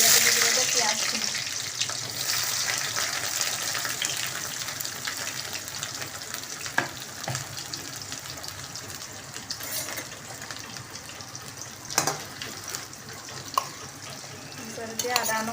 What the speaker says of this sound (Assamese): তেল এয়া পকি গৈছে। তাৰপৰা ইয়াতে দি দিব পিঁয়াজখিনি।